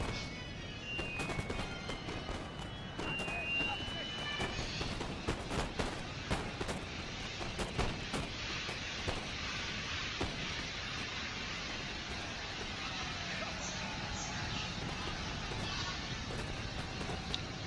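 Massed musket volleys and cannon fire rumble through a Napoleon: Total War online battle, with dense overlapping shots and booms continuing steadily throughout, loud and close, without any talk.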